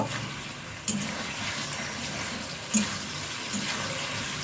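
Water is poured into frying spice mix in a cooking pot for a vegetarian chhana dish, producing a steady rushing splash with a few brief clinks and bumps over it.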